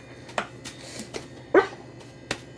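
A dog indoors at home, chasing cats around, with a few short barks or yips spaced across a couple of seconds, moderately close, one louder bark standing out.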